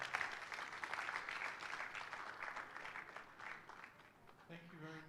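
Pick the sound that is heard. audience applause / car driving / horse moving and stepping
audience applause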